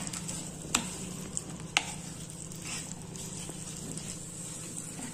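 Date paste for laddoos frying in ghee in a pan: a soft, steady sizzle with a few sharp pops and light stirring clicks, moderately close, no talk.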